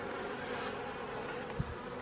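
Honey bees swarm densely around a hive during a spring apiary visit, a steady, full buzzing drone that fills the air with no break, close and constant without voices.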